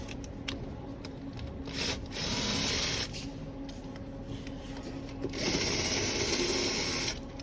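Mechanical scraping and rubbing come from loosening the head bolts of a BMW engine during a strip-down. The sound is steady and gritty, and two louder, brighter stretches of several seconds each stand out, with no talking.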